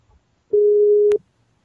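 A single steady telephone line tone sounds loud and alone for about two thirds of a second while calling participants, ending with a brief click.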